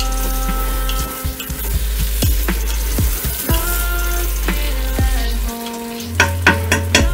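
Sofrito sizzles in a pan under a low steady hum, with repeated scraping and clinking as a spoon stirs against the metal, close and fairly loud, no voices.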